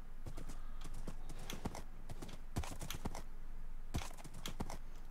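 Horse hooves in Minecraft thud in quick, uneven bursts of clip-clop steps, moderately close and crisp, running in clusters with short pauses between over a quiet ambient backdrop.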